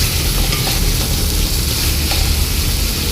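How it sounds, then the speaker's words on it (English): Cluster beans cooking in a tomato masala sizzle and fry steadily in a pan as they are stirred, a close, loud, continuous crackle with no talking. "fry and stir so that we have a nice sauce-like base for gawar pani to be fried in."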